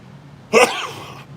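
A single short, sharp sneeze bursts out from near silence, followed by quiet.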